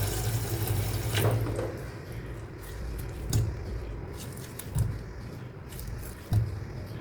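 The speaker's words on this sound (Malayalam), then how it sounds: "ഇനി ഇത് നീക്കി വെച്ചിട്ട് 2-3 വട്ടം അങ്ങനെ കഴുകിയെടുക്കാം." Steady running water splashes throughout, with a few brief knocks and handling sounds as soya chunks are rinsed; no one speaks.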